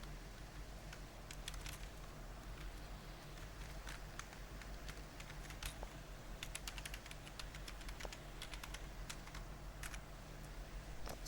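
Quick, light keystrokes on a computer keyboard as Java code is typed, an uneven run of close clicks over a steady low hum.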